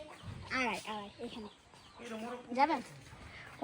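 Chickens cluck in short, rising bursts close by in a village chicken house, several birds calling over one another with brief pauses between.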